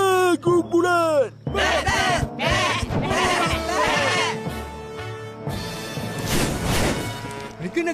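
A flock of goats bleats loudly and close, overlapping cries in quick succession, with some clattering knocks mixed in.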